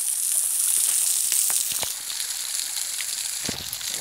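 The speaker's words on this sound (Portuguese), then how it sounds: "Uma queda d'água aqui." A small waterfall spilling into a stream at Cachoeira da Cabeça Preta in Limoeiro do Norte, Ceará, makes a steady hissing rush of water, close and constant, with a few faint knocks.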